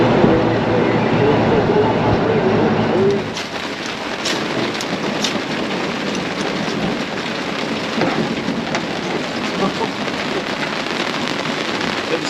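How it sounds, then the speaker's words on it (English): Heavy rain pours down during a thunderstorm in Spain, drumming steadily on a rooftop tent atop a Land Rover Defender, a dense broadband roar that continues throughout with occasional louder crackles and rumbles. "Little storm out there"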